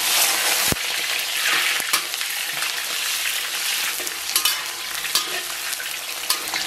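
Chopped scallion and ginger hit hot oil in a wok with a loud, crackling sizzle. A sharp knock comes early, then scraping stirs and light clicks run on under the steady frying.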